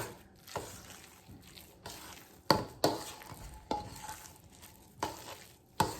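A spoon mixes ricotta cheese and egg in a bowl for lasagna, giving soft wet scraping and squishing strokes with several sharper clinks against the bowl, fairly close and at moderate level.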